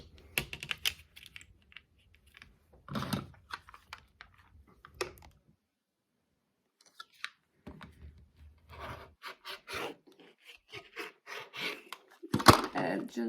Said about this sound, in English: I'm going to go ahead and just rotary cut this